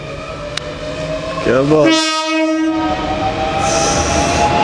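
A passenger train's horn gives a short toot close by, rising in pitch over the rumble of the train, with a brief spoken voice just before it.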